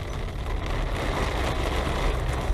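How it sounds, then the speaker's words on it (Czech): Heavy rain drums steadily on a car's roof and windscreen, heard from inside the vehicle as a dense, continuous wash with low rumble throughout. "Hodně prší."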